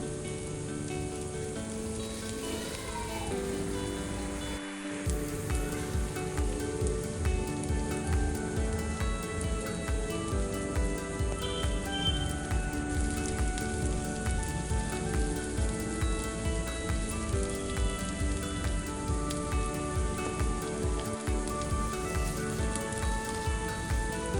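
Palm fritters (taler bora) fry in hot oil in a home kitchen, a steady dense sizzle like heavy rain that swells louder after a brief dip and holds constant throughout.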